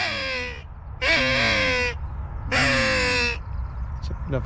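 Crows caw in the UK countryside near a shooting hide, three long harsh calls spaced about a second apart, loud and close over a low background rumble, with no talk.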